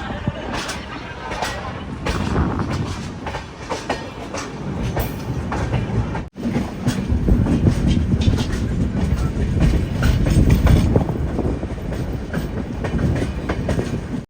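Puri–Howrah Shatabdi train overtaking the Silchar Aronai Express near Kharagpur, a steady loud rumble of wheels and carriages with rhythmic clickety-clack, continuous and close throughout with a brief dropout midway.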